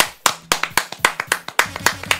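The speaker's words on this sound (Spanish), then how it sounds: "Un aplauso." A few people clap sharply and close by in a quick, fairly regular rhythm of about four claps per second.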